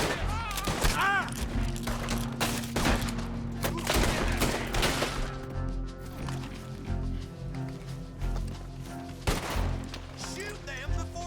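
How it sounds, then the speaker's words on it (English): Rapid gunfire crackles through a shootout in the Red Dead Redemption 2 video game, dense overlapping shots and booms with horse sounds and shouting voices throughout. "Shoot them before they shoot you, you idiot!"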